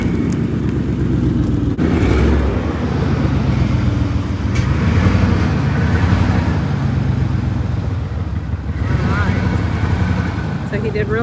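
V8 four-wheel-drive truck driving, a loud, continuous engine rumble with road noise and shifting load, heard up close throughout.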